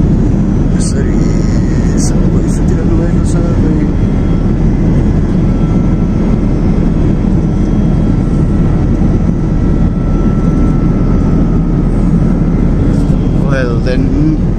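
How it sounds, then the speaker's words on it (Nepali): Cabin of an Airbus A380 in flight on a Qatar Airways route to Paris, filled with a loud, steady, low jet engine roar. Faint brief clicks and tones rise above the drone. "यो A380 यो सबैभन्दा ठुलो जहाज हो."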